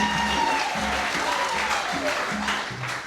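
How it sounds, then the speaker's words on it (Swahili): A congregation claps steadily through a Catholic Mass held in church for a pilgrimage marking the Jubilee of St. Francis. The applause is close, continuous and evenly sustained, with voices faintly underneath. "Naona hayo makofi hayatoshi."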